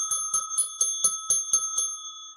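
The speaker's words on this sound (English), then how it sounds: "You get to hear the bell." A small bicycle-style bell is rung eight times in a quick, steady ding-ding rhythm, bright and close, with nothing else behind it.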